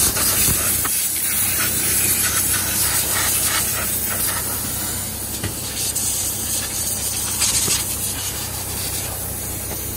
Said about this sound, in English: Go over here and grab the blower.